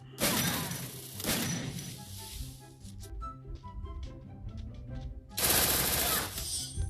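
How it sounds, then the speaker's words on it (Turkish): Gunfire bursts in the Free Fire video game during a one-versus-one match: loud, dense volleys at the start and again near the end, with quieter clicks and game effects between and faint talk. "Ben de tararım o zaman."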